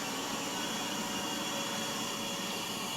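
A Yeedi robot vacuum works across carpet, giving off a steady, hissing whir of suction that holds at an even level throughout, fairly close, with no voices.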